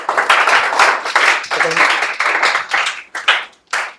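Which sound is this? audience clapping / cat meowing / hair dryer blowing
audience clapping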